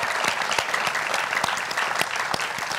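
A studio audience at a children's talent show in Indonesia claps steadily for a few seconds, a dense, even wash of applause with occasional sharper individual claps.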